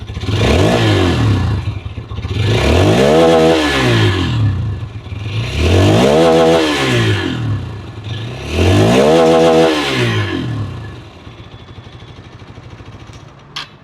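A Hero Xtreme 160R 4V motorcycle is revved four times in a row. Each loud exhaust blast climbs and falls back to idle before a short quieter idle at the end.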